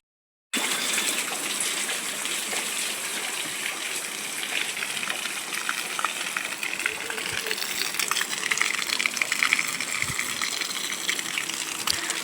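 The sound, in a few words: water overflowing from a full water tank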